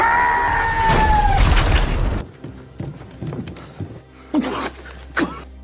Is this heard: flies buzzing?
no